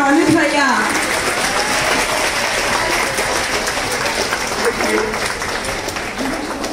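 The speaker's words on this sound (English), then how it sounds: "So a big round of applause for Dr. Anuj Bhaiya." Audience applause at a medical college academic fest, steady broadband clapping that holds loud throughout, with a voice briefly heard near the start.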